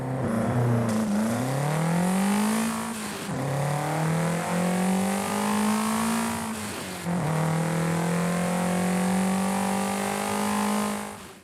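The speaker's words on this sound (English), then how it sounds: "let's go ahead and take a listen to the engine." A Fiat Abarth 131 from 1980 in Forza Horizon 5 revs hard through several gear changes, its rasping engine note climbing and dropping repeatedly, loud and close with no talk.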